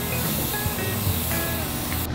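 Green primer hisses from a spray can in a steady, close, continuous rush, ending with a short louder burst.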